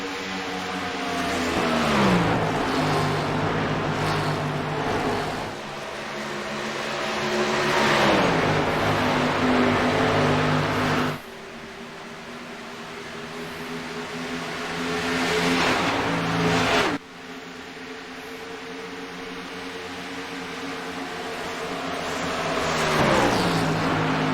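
Stock cars racing around Pocono Raceway in a racing video game: a loud, continuous engine drone that rises and falls with shifts in pitch, breaking off sharply twice before resuming.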